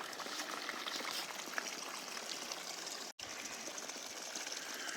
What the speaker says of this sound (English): it now has what looks to be arsenic flavored water flowing out into a holding tank down there